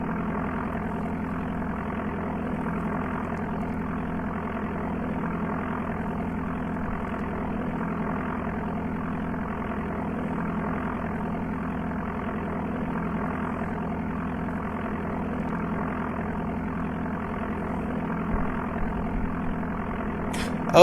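A propeller aircraft engine in the Amiga game Flight Simulator II drones steadily, humming evenly at constant power, with no talking, ending in a brief click.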